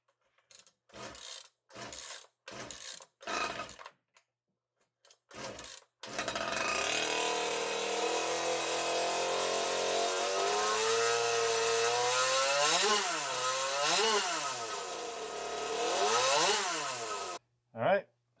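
A modified race chainsaw engine fires up after several short bursts of noise and then runs steadily at close range, a loud buzzing two-stroke drone that swells through a few throttle revs before cutting off.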